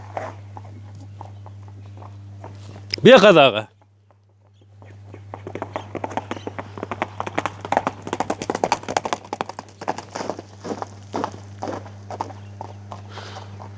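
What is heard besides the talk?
racing horse hooves clip-clopping while walking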